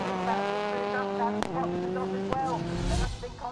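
Rallycross race cars in a British championship round at Pembrey collide side-on, engines revving loudly with harmonic whine, sharp impact thumps and tire squeal, under excited commentary.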